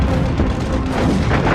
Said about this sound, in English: Enterprise's anti-aircraft guns greet the invaders with a cloud of lead.